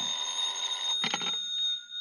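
Radio drama sound effect of a telephone ringing: a steady, shrill electronic bell tone at moderate level, with a short rattling burst midway, no voices.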